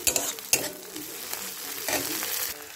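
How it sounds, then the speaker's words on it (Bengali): Garlic and ginger paste stirred and fried in a pan for a cauliflower korma, with scraping spoon strokes and a steady sizzle, sharp clinks near the start, close and alone. "এবার দিচ্ছি রসুন বাটা, আদা বাটা, ভালো করে মিশিয়ে নিচ্ছি।"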